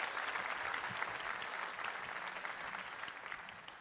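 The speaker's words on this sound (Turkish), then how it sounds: "Seymenlerimize kocaman bir alkış." An audience claps steadily at a Turkish television show after a performance by seymen folk dancers, a dense, sustained burst of applause that fades a little toward the end.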